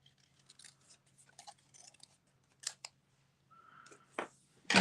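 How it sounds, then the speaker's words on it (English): Scissors cut out a paper pumpkin for a handmade card, a string of soft, close snips and paper rustles that ends in a few sharper, louder clips. "So we're going to cut out this pumpkin."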